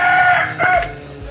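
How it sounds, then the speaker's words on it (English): A rooster crows loudly nearby near a temple in Myanmar, two drawn-out calls in quick succession with faint background noise. "there's the rooster"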